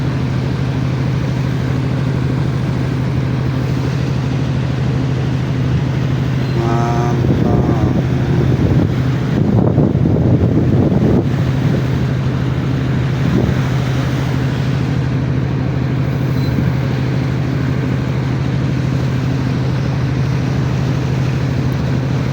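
A boat moving through deep floodwater in a flooded village carrying children to school, with a steady engine-like drone and gusty wind buffeting the microphone throughout, plus a short burst of louder rumble midway.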